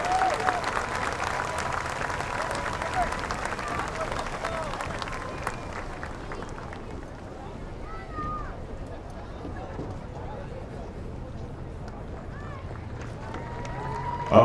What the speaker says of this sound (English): So a big round of applause for Sabela Gonzalez.